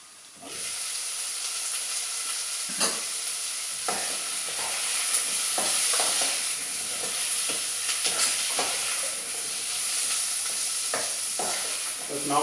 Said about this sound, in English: Just now and then turn the celery and the onion so you don't get them burning